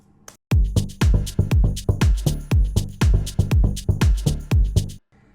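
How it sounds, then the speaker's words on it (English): A tambourine in an Afro house track plays alone as a rapid, steady pattern of bright jingling hits over punchy low thumps, lasting about four and a half seconds before stopping cleanly. "Tambourine."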